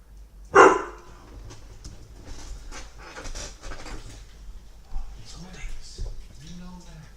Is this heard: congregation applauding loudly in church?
no